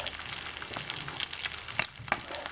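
Steady sizzling of food frying in a hot pan, with occasional crackles and pops and a few clinks of stirring.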